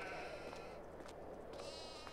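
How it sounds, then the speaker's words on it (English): A sheep in the Farming Simulator 22 video game gives a steady, nasal bleat, alone and at moderate volume over a faint constant background. "These sheep over here are pampered."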